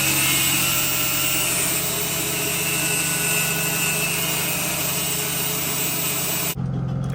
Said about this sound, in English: So I'm using a saw. I gotta cut here and there.